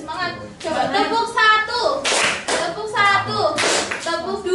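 A classroom of young children claps in bursts on cue from a teacher, sharp rhythmic hand claps alternating with voices chanting and speaking between the rounds.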